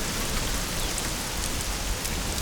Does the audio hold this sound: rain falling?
yes